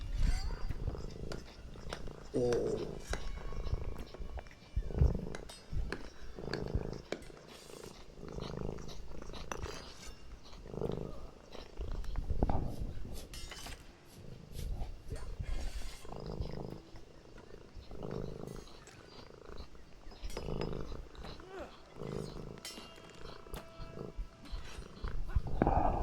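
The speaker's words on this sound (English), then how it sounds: "Cat cameo. Little bit of purring." A house cat purrs right beside the microphone in a soft, rhythmic, low rumble that pulses on and off for a long stretch; a person makes one brief exclamation.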